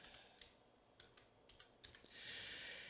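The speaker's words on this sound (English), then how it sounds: "we're going to type in a call sign here" A call sign typed on a computer keyboard during amateur radio operation: quiet, irregular key clicks in short bursts, followed by a faint steady hiss at the end, no voices.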